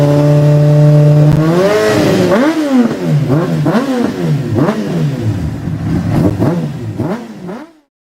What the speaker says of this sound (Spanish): ¿has notado el escándalo sonoro cuando esas motos pasan?